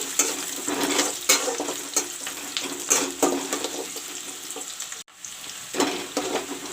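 Onions sizzle and crackle steadily in a pan with bay leaves and garam masala, with occasional stirring scrapes and a brief pause before the frying continues.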